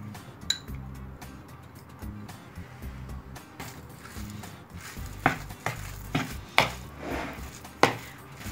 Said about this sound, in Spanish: mezclamos bien e incorporamos la mozzarella rallada